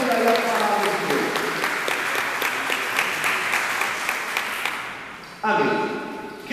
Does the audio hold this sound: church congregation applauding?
yes